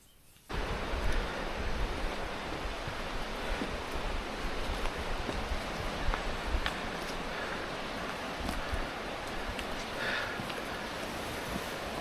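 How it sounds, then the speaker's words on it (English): Steady roaring rush of a waterfall and river in mountain jungle in the central mountains of Formosa, a dense continuous wash of water noise that starts abruptly and stays loud throughout, with no talking. "This is the waterfall."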